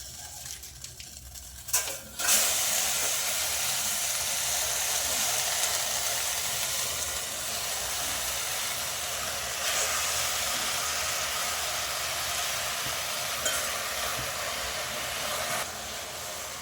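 Washed spinach (palak) goes into a hot cooking vessel for palak rice, setting off a sudden burst followed by a steady, loud, broad hiss and sizzle that carries on to the end.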